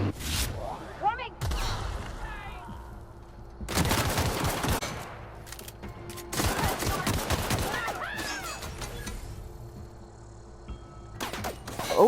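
Bursts of gunfire from a first-person shooter game, The Outer Worlds: loud volleys of rapid shots come in clusters with short gaps between them, close and sharp, with voices shouting amid the fighting.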